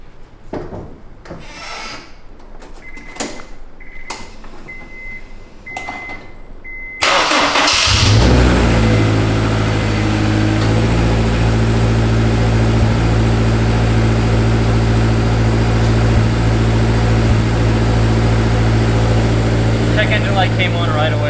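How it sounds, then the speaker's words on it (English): A Honda S2000 engine cranks and catches after a quiet stretch, then holds a loud, steady idle close by with a dense mechanical clatter that may come from the timing chain tensioner. "The first start, I think it might rattle still because the timing chain tensioner runs off of oil."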